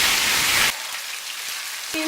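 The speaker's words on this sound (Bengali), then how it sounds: "চিংড়ি মাছটা আমি বেশি ভাজবো না, এটা 30 সেকেন্ড মতো আমি ভেজে নেব।" Prawns hit hot oil tempered with cumin and give a loud, hissing sizzle that drops sharply after a moment to a quieter, steady crackle close by.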